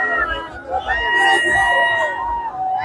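Crowd of young people at a New Year bhangra celebration in Jalandhar, cheering, hooting and shouting together in a loud, continuous wash of voices.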